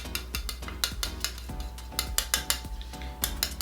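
NYX Born To Glow foundation and concealer being mixed together, with repeated close clicking and scraping taps of a tool against a hard surface in an irregular rhythm, no talking.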